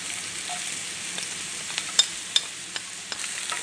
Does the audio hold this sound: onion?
yes